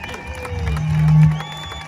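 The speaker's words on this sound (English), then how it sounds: "give them all a good applause and thank them for doing what they're doing" A crowd claps and cheers at a political election rally, the applause swelling to a peak midway before easing off, with a steady low hum underneath.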